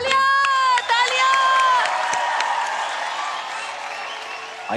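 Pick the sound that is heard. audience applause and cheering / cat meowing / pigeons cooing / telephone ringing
audience applause and cheering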